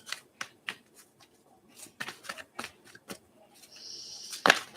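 Tarot cards shuffled by hand in a run of crisp riffling bursts and flutters, close and moderately loud, ending in a brighter, louder flurry.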